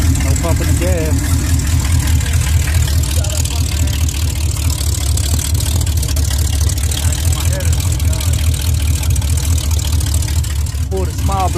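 A GMC short-wide pickup truck's small-block engine turns over and settles into a loud, steady, rumbling idle close by, with a voice talking over it.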